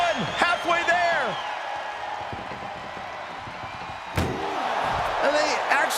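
An ambulance door slams shut during a WWE 2K24 wrestling match, a sharp bang near the four-second mark over crowd noise, cheering and commentator talk.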